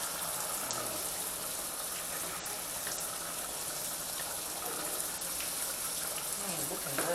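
Water runs steadily from a kitchen tap as hands are rinsed under it, a constant close hissing splash with slight changes in flow, no one speaking.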